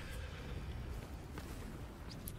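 A horse in the open-world action game Where Winds Meet, faint hoof clip-clop and a soft whinny under a low continuous game soundscape, quiet and brief with no speech.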